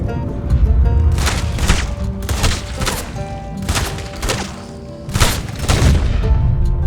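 Gunshots strike the player in Red Dead Online as a run of loud, booming shots and thuds in a ragged rhythm, close up, over a dense rumbling game background.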